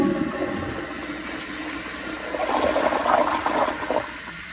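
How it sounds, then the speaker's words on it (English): A 1993 Kohler Kingston toilet gives a weak flush: a steady, close rush of draining and refilling water that swells briefly near the end, then quickly fades. "So it technically flushed, but it was very weak."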